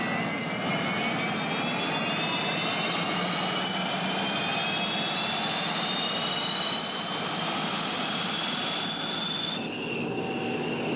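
Piper P-48 Enforcer close air support airplane with a steady, loud turbine engine roar and rising whine sustained throughout, no voices.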